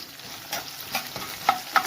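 Fenugreek seeds and lentils crackling in hot oil for a tempering, with a pinch of asafoetida, for a cucumber chutney; a close sizzle with a few sharp pops and light stirring.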